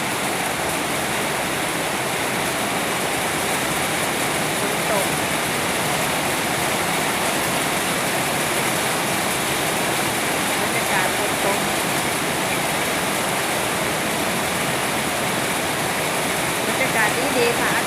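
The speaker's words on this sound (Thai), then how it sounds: "เสียงฝนกระทบสังกะสี" Rain drums on a corrugated metal roof in a steady, dense hiss that carries unbroken for the whole stretch, with a voice faintly under it.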